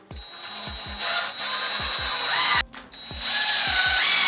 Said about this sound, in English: I'm gonna be screwing through the longer piece into the shorter piece